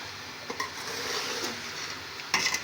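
Macaroni with vegetables and chicken is stirred and fried in a pan, a steady sizzle under scraping spoon strokes with a few sharp clinks against the pan, close, with no talking.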